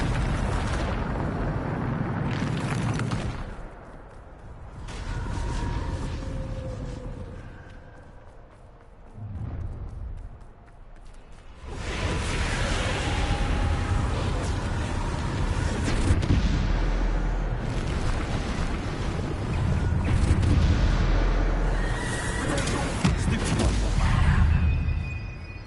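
Repeated booming spell blasts in Hogwarts Legacy, dense rumbling bursts of magic explosions, loud and close, with brief quieter gaps between volleys and a voice speaking over parts.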